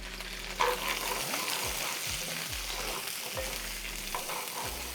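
Chunks of pumpkin sizzle in a hot pan of avocado oil over medium-high heat, a steady quiet frying hiss with occasional scraping stirs and faint low thumps underneath.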